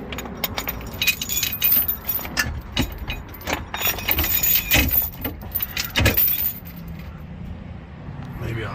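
A metal chain rattles and clinks in irregular bursts as it is pulled through a wheel during a flat-tire change on a Forest River Sunseeker RV, close by and loud at times, easing off near the end.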